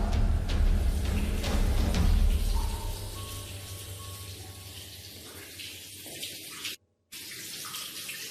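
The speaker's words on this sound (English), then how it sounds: "He keeps hearing a sink drip even though no water is coming from the faucet" Water sounds from a sink and faucet in a building with no water supply: a continuous watery hiss and trickle, loud at first and then softer, with a brief silent gap near the end.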